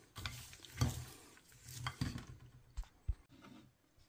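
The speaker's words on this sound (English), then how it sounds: "we're going to add our peanuts and stir those in until they're all well coated" Peanuts stirred into melted chocolate, soft scraping and sticky clicking strokes of a spoon in a pot, faint and close, in an irregular rhythm.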